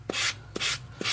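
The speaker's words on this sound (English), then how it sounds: "now I'm gonna take my sanding block" Three short rasping strokes of a sanding block on dry air-drying soft clay, evenly spaced, close and fairly quiet, with no voices.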